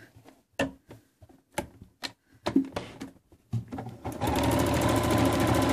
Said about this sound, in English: as long as your machine is stitching correctly, you are not going to see those stitches at all.